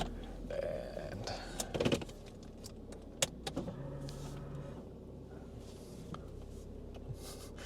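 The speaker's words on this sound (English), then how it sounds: "I'll just move my car now." A parked car is moved: scattered clicks, thumps and rustles around the vehicle, with a brief mechanical whir like a power window partway through, fairly close but quiet.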